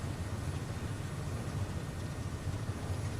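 Aircraft engine in Microsoft Flight Simulator, a continuous low droning rumble with a faint rattling texture, steady and unbroken, with no voices.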